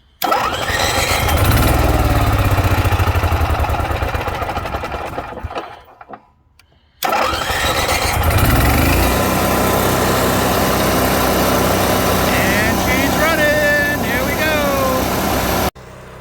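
A 2009 Cummins Onan 4000 RV generator engine cranks and starts, a loud mechanical rattle runs, briefly cuts out, then restarts and keeps running steadily, with a voice over it.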